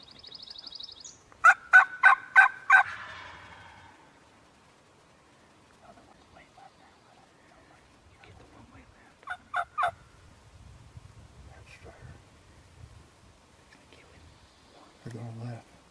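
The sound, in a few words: wild turkeys gobbling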